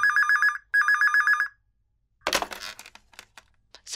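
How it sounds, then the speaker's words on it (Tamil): A telephone ringing at a police station in a radio drama, two electronic double rings back to back, followed by a pause and then clattering handling noise as the phone is picked up. "ஆனால் அந்த நேரத்தில் இன்னொரு ஃபோன் கால் வந்துச்சு போலீஸ் ஸ்டேஷனுக்கு."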